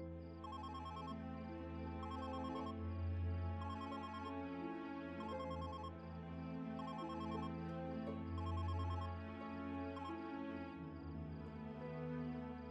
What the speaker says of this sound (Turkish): Burcu, telefonun çalıyor.